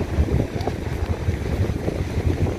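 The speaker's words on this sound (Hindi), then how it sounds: "आप देख सकते हैं कितनी तेज हवा चली हुई है" Strong wind gusts across a seaside beach, buffeting loudly in rough, uneven surges with a low roar of surf underneath, close and unbroken.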